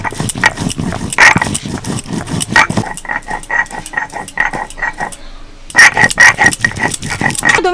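Whole cumin is ground by hand into a spice paste, giving close, rhythmic scraping strokes in steady repetition, softening briefly partway through before resuming strongly.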